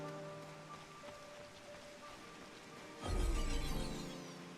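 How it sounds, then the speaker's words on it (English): Rain falls in Final Fantasy XIV as a soft, even patter under a low game music bed, with a louder swell of rushing rain and rumble entering about two-thirds of the way through. "Oh, it's raining."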